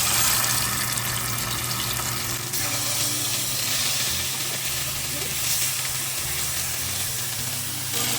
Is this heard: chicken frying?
yes